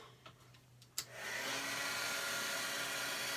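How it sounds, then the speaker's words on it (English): A heat gun drying black ink on tie-dye resist work starts with a sharp click, then a steady, loud airy blowing roar that runs on alone. "So now I'm going to dry this real quick with my heat gun."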